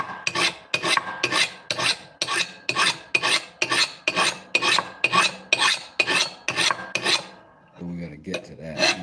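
Rhythmic rasping strokes of a file or abrasive polishing down a metal blade edge, about fifteen even passes close up, followed by a brief softer scraping.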